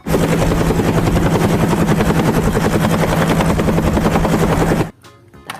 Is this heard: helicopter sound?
yes